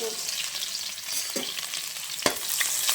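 Mustard seeds and garlic sizzling in hot oil, a close, steady frying hiss with a few crackles and one sharp pop near the end, no talking.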